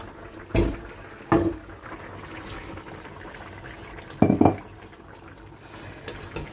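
Fried prawns dropped one by one into a boiling malaikari curry sauce, a few distinct splashy plops and clinks of cookware over a soft bubbling background.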